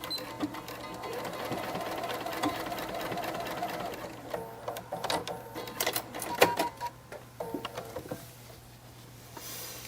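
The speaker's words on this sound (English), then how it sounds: "we're going to sew 1/4 of an inch from the edge there to there" Sewing machine stitching a quarter-inch seam along the edge of a fabric face mask, a quiet continuous rapid whirring with a steady hum, broken into short bursts and stops toward the end.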